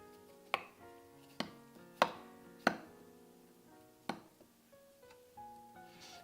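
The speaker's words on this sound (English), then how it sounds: "Time to peel and mince the ginger." A knife strikes a cutting board in several sharp, separate chops at an uneven pace, mincing peeled ginger; the knocks are close and fairly quiet, with ringing tones in between.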